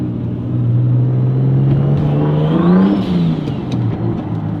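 A 700 hp single-turbo BMW 335i revs hard while drifting on snow, its engine note climbing and falling in a loud, close whirring surge that peaks midway and then eases off.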